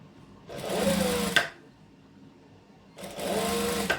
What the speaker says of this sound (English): So I'm just stretching it and then stitching a couple of centimeters.